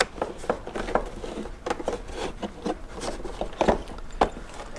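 Dremel rotary tool case being pried open, a series of close plastic rubbing, clicking and rattling noises with uneven rhythm, fairly quiet and without talk.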